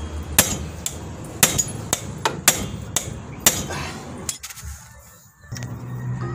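A hammer strikes a truck kingpin again and again, hand-driving it out with no special tools. The blows are loud, sharp metallic clangs at an uneven pace, close by, and the clip ends on quieter shuffling.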